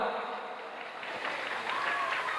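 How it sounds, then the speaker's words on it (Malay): Audience at an Eid al-Fitr religious talk clapping for a mosque youth group, a sustained patter of applause that swells toward the end, with a voice heard over it. "Tepuk tangan untuk remaja masjid Raudhatul Jannah"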